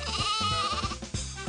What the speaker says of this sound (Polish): Najpierw spotkali malutką owcę